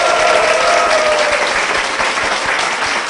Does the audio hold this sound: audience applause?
yes